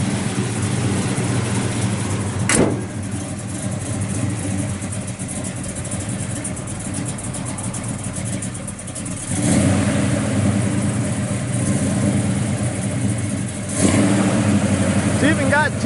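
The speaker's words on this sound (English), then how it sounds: "This thing just thumps out the exhaust." A 1970 Chevrolet Chevelle SS 396 V8 idles with a deep, thumping exhaust, breaking into short revs at intervals, while someone talks over the rumble.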